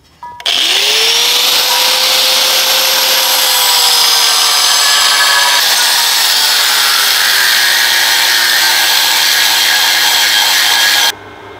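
Power saw cutting through a piece of steel angle in a shop, a loud, steady high-pitched whine with grinding that starts abruptly, holds for about eleven seconds and cuts off, with no talking.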